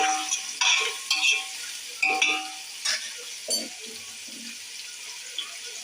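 Onions and green chillies for chicken biryani sizzling and being stirred in a pan, with steady frying hiss broken by repeated scraping stirs, close and fairly loud.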